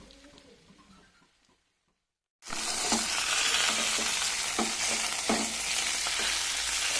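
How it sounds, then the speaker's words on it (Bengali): Bhetki fish heads drop into hot spice paste in a pan: after a quiet stretch, a loud sizzling fry bursts in and continues densely, with periodic scraping strokes of stirring cutting through the hiss. "এবারে দিয়ে দেবো মাথাগুলো। মশলার সঙ্গে এগুলো ভালো করে কষিয়ে দেবো।"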